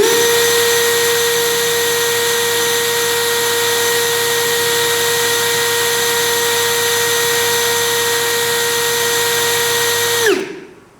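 An XAPR AP34 Pro cordless brushless drill spins at its lowest speed setting, a steady loud whine with a constant pitch and strong harmonics held for about ten seconds before it abruptly spins down and stops.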